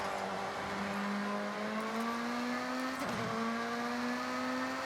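Car engine in the racing game Forza Horizon 6 revving up through the gears, a steady climbing tone that drops briefly at a shift before rising again, loud and close.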